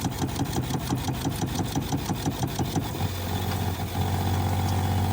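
A camper van water pump runs with a rapid pulsing hum that settles into a steadier, smoother drone midway, close and continuous.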